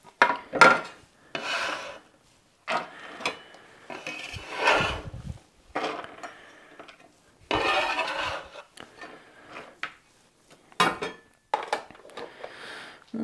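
A knife finely cuts leftover vegetables on a board, several close runs of dry rasping slices and chops with short quiet pauses between them, and no voices.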